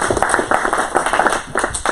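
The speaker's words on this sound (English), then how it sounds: "big round of applause for both of us." A small crowd at an opening-day baseball celebration in Centralia claps in a brief, close burst, individual hand claps distinct and uneven rather than a dense roar.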